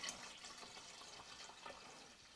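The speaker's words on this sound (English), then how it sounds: "So we're going to add some extra water" Water pours steadily into beer wort in a BrewDemon home brewing kit, topping it up to the 8.5 quart mark; a faint, continuous hiss of running liquid with no talking.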